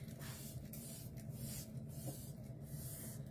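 A spray bottle hisses in a few short bursts onto corn cobs over a low steady background rumble, with no talking.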